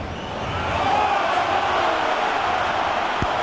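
Rugby stadium crowd reacting to a disputed try, a swelling roar of many voices that builds within the first second and holds as a dense, steady murmur of protest.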